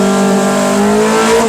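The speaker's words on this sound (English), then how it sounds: "second gear still revving, third gear goes." Renault R5 rally car, Le Mans Edition, engine revving hard on the road, a loud, close, steady buzzing drone that climbs slightly in pitch, with no talk.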